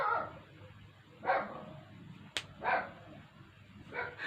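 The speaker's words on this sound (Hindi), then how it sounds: "ये मेरा डॉग है, बीच बीच में ये बहुत परेशान करता है" A dog barks nearby in several separate bursts spaced across a few seconds, indoors over quiet background noise, with one sharp click partway through.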